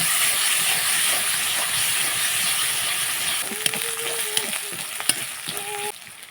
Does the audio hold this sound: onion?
yes